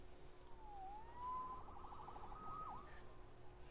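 A faint video game police siren wails in a few rising and falling sweeps over a steady low hum, with no voices.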